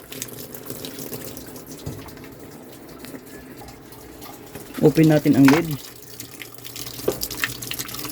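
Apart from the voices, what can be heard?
water filling a washing machine drum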